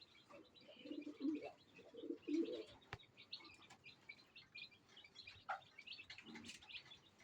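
Pigeons coo softly inside a farm loft, low throaty murmurs coming in a few short bursts among faint chirps and rustling, all quiet and somewhat distant.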